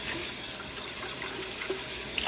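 Glass jars rinsed under a running kitchen tap, a steady close hiss of flowing water with faint clinks of glass, no talking.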